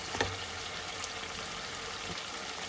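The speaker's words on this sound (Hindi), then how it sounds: "1-8 मिनट के लिए ये लहसुन पेस्ट भूनेंगे।" Garlic paste frying in a pan, a faint, steady sizzle with a few small pops and crackles near the start.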